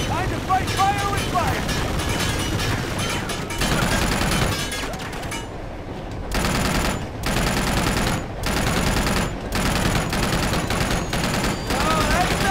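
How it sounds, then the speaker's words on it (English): Sustained heavy automatic fire from an anti-air turret in Uncharted 2, booming bursts pounding almost continuously, broken by a few brief gaps in the second half, loud and close with game speech mixed in. "Anti-air turret, let's go."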